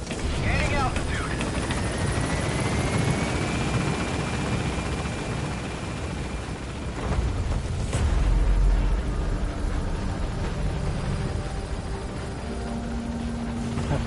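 A helicopter in the game Metal Gear Solid V gains altitude with a steady, loud rotor and engine roar that stays close and continuous throughout, while a voice talks over it.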